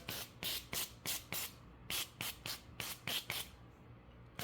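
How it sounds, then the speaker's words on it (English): A dozen short bursts from a pump spray bottle of avocado oil, hissing one after another in a fairly even rhythm, close and moderately quiet. "I'm just going to spray this side"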